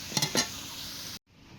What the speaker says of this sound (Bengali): এই তেলেই আলুগুলো ভেজে নেব, আলুগুলো একদম লাল লাল করে ভেজে নেব